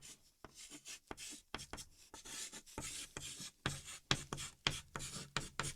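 The word regulation is written out by hand as a quick run of scratchy strokes, short bursts and pauses following the letters, close and with no talk.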